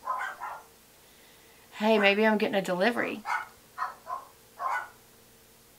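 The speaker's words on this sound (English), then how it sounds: "the dogs are welcoming someone viciously" Dogs bark sharply at someone outside a home, a quick cluster of loud, close barks in the middle followed by a few scattered single barks, with a person talking nearby.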